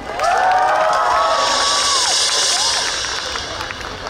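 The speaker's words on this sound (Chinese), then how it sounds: "掌声掌声给法兰跟包子好不好？" Concert audience at a university music festival in a theater cheering and whooping, a sustained crowd roar with high shouts that fades slightly toward the end.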